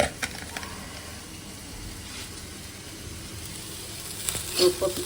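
Fish fries in a pan with a soft, continuous sizzle, broken by a few light clatters and a brief louder burst near the end.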